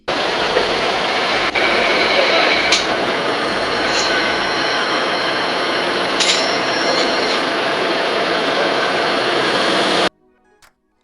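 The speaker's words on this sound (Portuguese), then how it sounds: "De repente estou fazendo um vídeo que tem trem e eu preciso do efeito sonoro" An AI-generated train sound effect from a Meta tool: a loud, continuous rail rumble with rolling wheel noise and a few high wheel squeals, which cuts off abruptly near the end.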